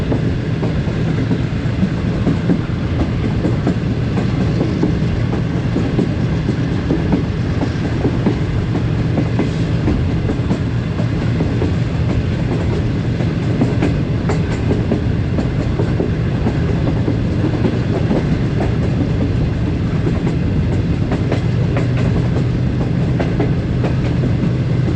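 Locomotive GU 409012 hauling the Shalimar Express between Lahore and Karachi notches up, giving a steady, loud diesel rumble under continuous rail clatter from onboard, with no voices, for the whole stretch.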